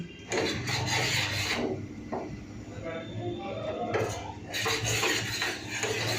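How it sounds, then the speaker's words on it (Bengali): Cardamom tea is strained into cups in a home kitchen, with clinking of a metal strainer and pots and trickling pours close by. A person talks over the clatter. "এই যে চলুন চাটা ছেঁকে নিই"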